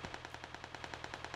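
Rapid automatic gunfire in the video game PUBG as players fight each other downhill, a steady rattling burst of evenly spaced shots, fairly close and loud, with no talking.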